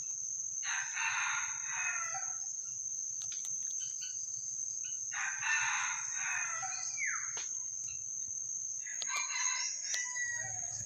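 A small jungle fowl rooster crows three times in short, thin bursts spaced a few seconds apart, moderately near, over a steady high insect drone and a quiet outdoor background.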